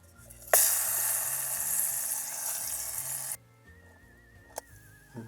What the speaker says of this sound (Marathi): हे अननस थोडंसं फ्राय करूया मीठ घालून.